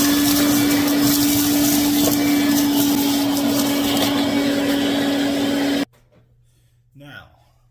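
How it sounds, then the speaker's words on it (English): A vacuum cleaner sucks up rust and debris from a PTAC air-conditioning unit, running loudly with a steady whine and rushing suction for several seconds, then cuts off abruptly, leaving near silence and a brief voice. "So I'm going to take the vacuum."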